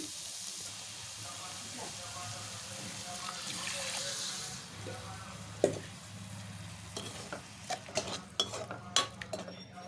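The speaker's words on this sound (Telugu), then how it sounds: "మనం ఇందులోకి సరిపడా అన్ని వాటర్ని అయితే యాడ్ చేసుకోవాలి" Water is added to an amaranth leaf curry in a pan and stirred in, with a steady sizzling wash and scraping spoon clatter that grows into sharper knocks against the pot toward the end.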